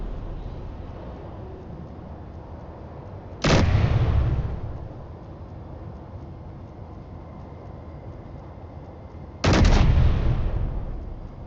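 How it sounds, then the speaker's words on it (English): An assault cannon fires in a video game, two heavy booming blasts about six seconds apart, each with a long decaying rumble, over a low steady background hum. "Going to run out of assault cannon ammo."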